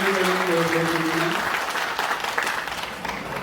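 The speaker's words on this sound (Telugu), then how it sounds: "వారి బృందానికి ప్రత్యేకంగా అందరూ చప్పట్లతో వారికి అభినందనలు తెలియజేయడం." An audience claps for a performing team at a Sardar Papanna Goud birth anniversary celebration. The dense, steady applause runs throughout, with a brief tonal voice or sound over it at the start.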